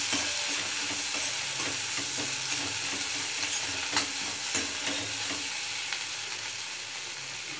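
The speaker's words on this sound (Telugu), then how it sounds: "ఇప్పుడు కరివేపాకు, కొత్తిమీర టేస్ట్ సరిపడే ఇంగువ వేసేసుకుని బాగా కలిపేసుకుంది।" Fried brinjal stirred in a hot pan with curry leaves, coriander and asafoetida, a steady loud sizzle running throughout with repeated scraping strokes of the spoon, no voices.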